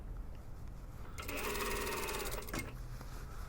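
A sewing machine stitches the hem of a dartless lined jacket in one fast, close burst of rapid needle clatter lasting just over a second, set between quieter room sound.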